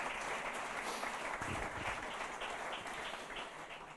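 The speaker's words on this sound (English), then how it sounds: "give Blackford Financial Services a big round of applause" Distant, faint crowd applause at a motorcycle road-racing press launch evening, a soft continuous wash of clapping that holds steady throughout without talk over it.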